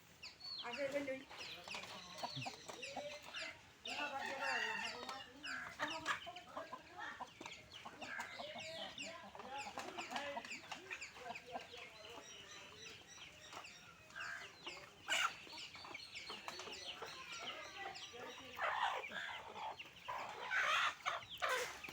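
Free-range native chickens cluck and squawk throughout, a busy overlapping chorus of hens close by on a Bangladeshi farm, with scattered sharper calls and a steady farmyard bustle.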